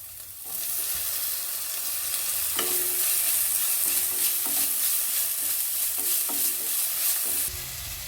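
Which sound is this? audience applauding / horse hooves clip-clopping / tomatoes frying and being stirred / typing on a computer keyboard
tomatoes frying and being stirred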